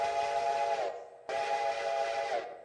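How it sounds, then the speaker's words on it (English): Steam locomotive whistle in the Railroader train game, heard as two long, steady blasts separated by a short gap, fairly distant and alone with no talk. "you'll hear that there's another train that's whistling"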